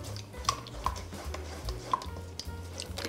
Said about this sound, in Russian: И хорошенечко все перемешиваем.